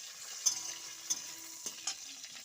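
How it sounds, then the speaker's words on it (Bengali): A tomato fries in a pan during home cooking of a vegetable curry with cauliflower, potato and carrot. A faint, steady sizzle runs throughout, with a few soft clinks and stirring knocks from a utensil. "টমেটোটা ভাজা ভাজা হয়ে গেছে"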